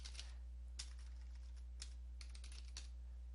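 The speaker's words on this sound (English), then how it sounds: "into the Start menu, you want to type in Windows PowerShell." Keys tapped on a computer keyboard in a short, faint run of irregular clicks over a steady low hum, no voices.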